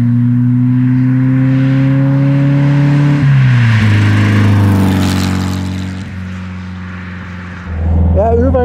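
A 1957 Porsche 356 Speedster's tuned engine with Sebring exhaust revs up in steady climbs, its tone stepping higher before easing back and rising again, loud and close.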